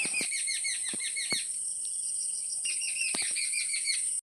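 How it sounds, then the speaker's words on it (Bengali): Birds chirp and trill steadily in the early morning in a village, with quick repeated calls and a constant high insect-like buzz, outdoors with no talking. "বাইরে এসে শুনছি পাখিদের কলকাকলির মিষ্টি আওয়াজ"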